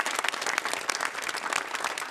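A television studio audience gives a big round of applause, dense continuous clapping that stays fairly even throughout, heard from a moderate distance.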